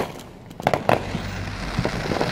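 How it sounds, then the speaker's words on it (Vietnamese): Fireworks on the Fourth of July crack and pop in a few sharp, close bursts, followed by a low rumbling boom and faint crackling. "Bên kia vào dở nó bắn nãy giờ chắc mấy ngàn đô rồi tiền pháo"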